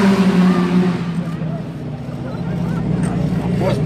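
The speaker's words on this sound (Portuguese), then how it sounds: "a bordo do AJR65 com motor V8" An AJR65 race car with a V8 engine runs at the Tarumã circuit during an endurance event, its loud, steady engine drone wavering in pitch as a voice talks over it.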